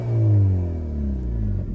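A Hyundai i30N hot hatch engine in N mode revving up and falling away, a loud close growl with a rising then descending tone, brief and alone.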